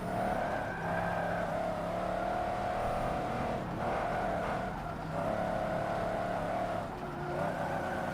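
A race car in Forza Motorsport 7 roars continuously through a wide turn, its engine pitch rising and falling as it shifts and wobbles, with occasional tire skids under the loud, steady drone.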